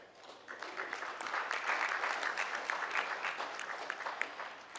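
Steady applause from an audience at a 4-H livestock judging contest awards ceremony, a dense wash of clapping that rises after the first half second and holds fairly even throughout, with no talk over it.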